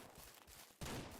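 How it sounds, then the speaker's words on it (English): A deer-hunting rifle shot cracks out once, loud and sudden, after a stretch of dull rumbling outdoor noise, then leaves a brief rolling echo. "just gunshots going off"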